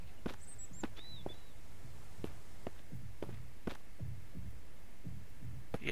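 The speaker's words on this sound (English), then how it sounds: "there's the heartbeat" A heartbeat pulses in the survival game Mist Survival, low muffled thumps in an uneven rhythm under a steady hum, with a few faint bird chirps and clicks overhead.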